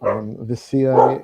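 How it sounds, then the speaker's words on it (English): A dog barks a few times nearby, loud and clear, mixed with close talk from a podcast host. "apologies for the dog."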